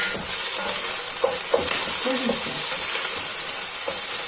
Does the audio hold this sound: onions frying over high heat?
yes